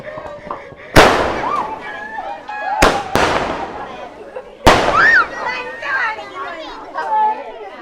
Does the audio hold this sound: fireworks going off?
yes